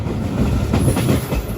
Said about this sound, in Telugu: అవుటర్లో ఉంది బండి, స్టేషన్ లోపలికి వెళ్ళిపోతాం.